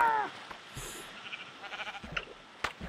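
Sheep bleating in the video game Minecraft while they are being sheared; a short, faint bleat near the start followed by quiet ambience and a few small clicks.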